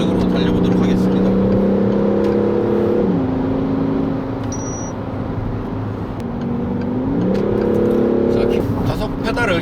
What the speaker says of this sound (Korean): 스포츠 모드를 켜서 본격적으로 달려보도록 하겠습니다